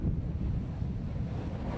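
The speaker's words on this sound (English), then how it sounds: "The crashing waves are indiscriminate in their assault" Storm waves and gale-force wind batter the Cornwall coast at Kingsand, a continuous heavy low roar of surf with wind buffeting the microphone, no voices.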